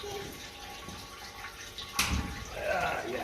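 Water rinsing stripped-down parts from a 1955 Ferguson 20 TED TVO tractor during cleaning, a quiet steady wash with a sudden splash midway, then louder running water.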